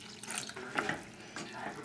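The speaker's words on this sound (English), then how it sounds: "We'll just add a little bit more water" Water runs from a tap into a pan during cooking, a steady rushing stream with slight splashing that continues close and fairly loud throughout.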